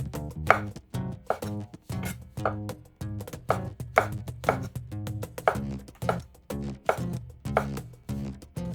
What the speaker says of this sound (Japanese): 傘の部分は厚めの千切りに。